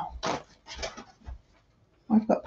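A puppy close by at someone's feet in a home kitchen during late-night chicken freezer prep, giving short soft whimpers and breathy pants in several brief bursts, with quiet gaps between them.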